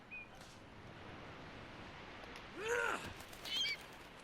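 A bird honks in Uncharted: Drake's Fortune (2007), two short, fairly clear calls over a quiet, hissy game background.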